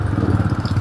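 Motorcycle engine pushing through flood water in Pampanga, a brief, close, rapid chugging pulse at steady rhythm with no voices.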